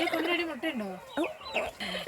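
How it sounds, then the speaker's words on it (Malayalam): A brooding hen, set on eleven eggs, gives a run of close clucks and throaty calls in short bursts, fairly soft, with no one talking. "ഇതാട്ടോ നമ്മളുടെ ഇന്നലെ വൈകുന്നേരം അട വെച്ച കോഴിയാട്ടോ"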